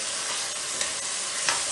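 Liver pieces frying in hot oil give a steady, dense crackling sizzle, close and continuous, with a couple of brief sharper pops, no voices.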